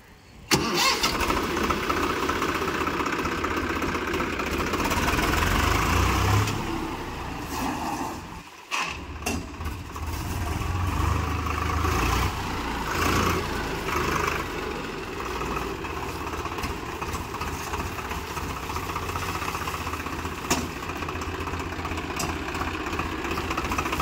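A Swaraj 735 FE tractor engine runs at idle nearby, a loud, steady diesel rumble that dips briefly partway through and then settles back into an even, continuous drone.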